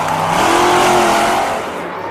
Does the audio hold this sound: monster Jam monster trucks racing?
yes